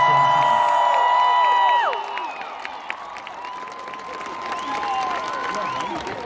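A concert crowd at the outdoor Red Rocks amphitheatre during a show applauds and whoops loudly, with high shouted cheers ringing over the clapping before the noise drops to a lower, scattered level.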